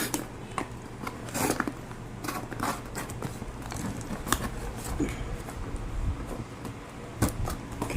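A delivered parcel with a budget Android phone inside is opened by hand, giving scattered crinkling, tearing and scraping noises with a few sharper clicks, close and moderately loud, with no talking.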